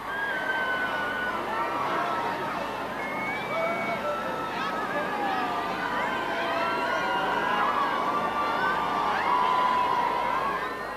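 A large crowd gathered outside Clarence House for a royal wedding cheers and shouts continuously, a dense, steady roar with whistles and raised voices throughout.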